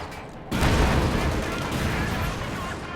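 A tank shell fired at an M36 Jackson tank destroyer in Company of Heroes 2 cracks out loudly at about half a second, its heavy boom and rumble carrying on under continuous battle noise.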